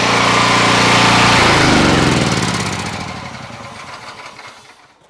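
A small gas engine on a pressure washer runs steadily at a gutter cleaning job, then is shut off and winds down, its loud drone fading to a faint sputter.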